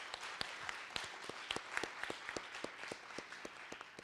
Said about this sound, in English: can we give another round of applause for Dr.